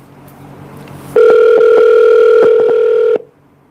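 A telephone line plays a steady, loud tone, broken by several short gaps as if dialing, and lasts about two seconds before cutting off into quiet.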